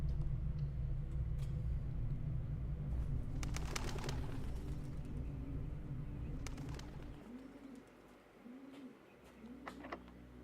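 Doves coo in the video game Blue Prince, a series of soft, rounded repeated calls standing out in the second half over a steady low ambient drone, with a few faint clicks earlier.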